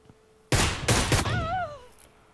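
Gunfire in the mobile battle-royale game PUBG Mobile: a few sharp, loud bursts of shots close together at the start, followed by a ringing, wavering tone that fades.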